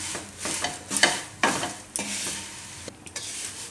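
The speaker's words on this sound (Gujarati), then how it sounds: "તો આને આપણે ચારથી પાંચ મિનિટ માટે આ રીતે શેકી લીધા મીડિયમ ગેસ રાખીને" Flattened poha flakes for a papad poha snack are dry-roasted and stirred in a pan over a medium gas flame, giving a close, steady rustling scrape with soft crackling and irregular louder stirring strokes.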